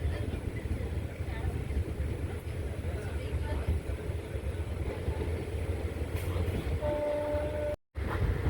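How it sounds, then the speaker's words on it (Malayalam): The Guruvayur Express slows as it approaches Sivakasi station, heard from on board as a steady low rumble and rattle of the carriages that stays even throughout. "ശിവകാശിയിലേക്ക് ട്രെയിൻ അങ്ങനെ എത്തിക്കൊണ്ടിരിക്കുകയാണ്. ട്രെയിൻ സ്ലോ ആയിട്ടുണ്ട് ഇവിടെ."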